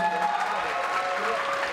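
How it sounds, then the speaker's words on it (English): A graduating class at a Five Towns College 2015 ceremony applauds in a soft, continuous wash of clapping, with crowd murmur and tones mixed in and the sound somewhat distant. "give yourselves a round of applause for being here"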